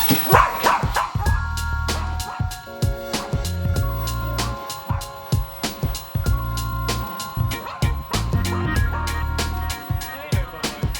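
A dog yips and barks in quick bursts, close by, over a low droning hum, with a sharp bark repeating every second or so.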